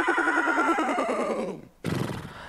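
A person imitates a horse whinny with a long, wavering, shaky neigh that trails off, followed after a brief gap by a second shorter, breathy burst, loud and close.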